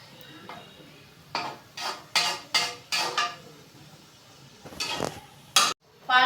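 Rice ingredients being stirred and fried in a metal pot, a spoon scraping and clanking against the pot in irregular bursts over a faint sizzle, close and fairly loud.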